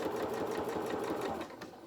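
A domestic sewing machine stitches piping onto a dressing gown in one steady, close, continuous whir of rapid needle strokes that eases slightly near the end.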